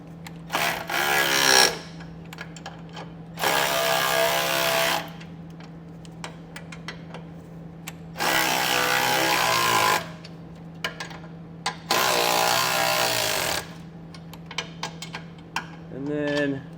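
A ratchet or socket wrench with a 9/16 socket snugs down U-bolt nuts while installing Air Lift LoadLifter 5000 air helper springs on a 2017 Winnebago, in several bursts of close clicking separated by pauses, over a steady low hum.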